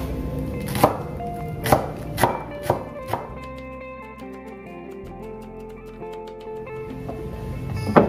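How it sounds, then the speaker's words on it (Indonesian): A knife slices leeks thinly on a cutting board with about seven crisp, evenly spaced chops in the first few seconds. After that comes a quieter stretch of low hum and faint taps, then one last chop near the end. No one speaks. "Ini kita potong dulu bawang prainya."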